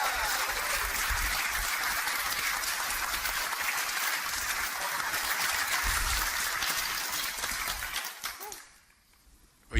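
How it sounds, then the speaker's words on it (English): Audience applause at a Unitarian Universalist church event in Austin, a steady, dense round of clapping that fills the room for about eight seconds, then fades out to near silence. "you got a nice round of applause there"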